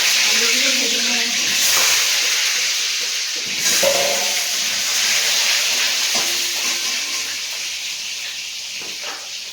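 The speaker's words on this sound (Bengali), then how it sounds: "খাসির মাংস রবিবারে আলুগুলো ভেজে নেব।" Potatoes frying in hot oil in a very hot wok, a steady close hiss and sizzle running through the whole stretch with brief clinks and stirring knocks.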